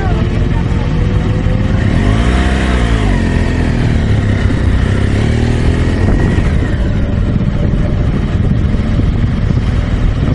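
A 2016 BMW R 1200 GS Adventure motorcycle pulls away on a demo ride at Laguna Seca, Monterey. Its engine rises in a clear rev near the start, then settles into a steady drone, with constant wind rush and a few faint voices.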